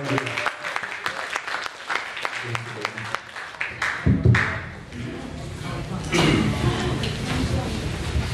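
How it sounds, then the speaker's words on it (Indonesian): An audience at a youth camp seminar in Medan claps after an introduction: scattered sharp claps at first, then swelling into dense continuous applause, with a voice speaking over it partway through. "mari kita tepuk tangan"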